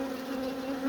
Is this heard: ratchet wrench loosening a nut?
no